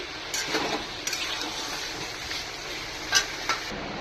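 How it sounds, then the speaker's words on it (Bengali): Potatoes frying with chicken and tomatoes in a pan, a steady close sizzle broken by a few sharper scraping stirs, with no talking. "আর আলুগুলো দিয়ে দিচ্ছি, দিয়ে তার সাথে আরেকটু কষিয়ে যাব, কারণ টমেটোগুলো গলবে"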